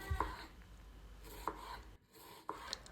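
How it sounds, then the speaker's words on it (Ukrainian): A knife chops onions on a board in a few separate strokes, spaced about a second apart, with quiet kitchen background between cuts and no talking. "Для початку я беру дві середніх цибулини та нарізаю їх дрібненько."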